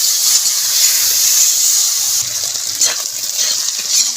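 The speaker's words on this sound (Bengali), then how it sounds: "এবার ভালো করে ভেজে নেব চিংড়ি মাছটা একটু কড়া কড়া করে।" Prawns frying in hot oil with salt and turmeric give a loud, continuous close sizzle and hiss that eases slightly partway through, with faint stirring underneath.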